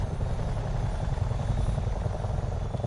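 A Chinook helicopter in Microsoft Flight Simulator 2024 gives off a constant deep rotor drone and engine rumble, loud and unbroken throughout.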